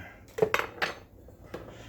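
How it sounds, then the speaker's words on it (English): A metal fork clinks and scrapes against a bowl while mashing soft butter into mayonnaise and seasoning for garlic butter, a quick cluster of close taps followed by a lone softer clink. "You're going to mush that butter into the mayonnaise and the seasoning"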